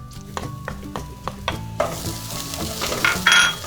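Garlic added to browning shallots in a hot pan, sizzling as a utensil stirs and scrapes through it in repeated close strokes, with the frying hiss building toward the end.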